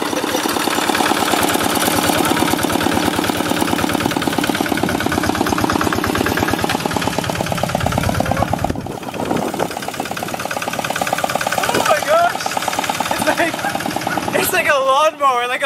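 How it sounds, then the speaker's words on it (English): A big tractor trailer motor, essentially a massive engine driving a wheel or two and dragging a trailer in Magsaysay, Mindoro, Philippines, runs with a steady loud chugging throb throughout, with people talking over it. "It's just a big massive motor that is attached to a wheel or two."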